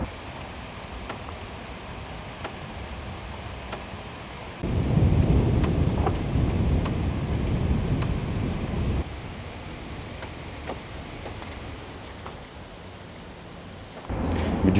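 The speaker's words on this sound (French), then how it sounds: "Il a fait un temps horrible jusqu'au matin, de l'orage, de la pluie." A nighttime thunderstorm with heavy rain, a rumble of thunder swelling partway through and then fading into the steady hiss of rainfall, with sharp drip or tick sounds and another rumble building at the end.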